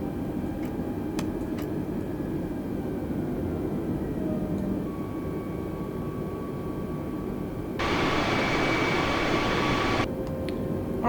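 A simulated Airbus A320 in flight in Microsoft Flight Simulator 2020 keeps up a steady cockpit engine drone with faint tonal hums and a few soft ticks, and a brighter hiss swells for a few seconds late on.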